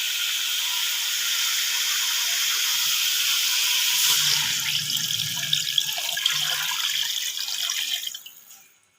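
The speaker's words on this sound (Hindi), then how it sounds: "अब हम इसमें पानी ऐड कर देंगे।" Water pours steadily into a pot of chicken for yakhni pulao, a loud, close, continuous rushing hiss that shifts in tone partway through as the pot fills, then tapers off and stops near the end.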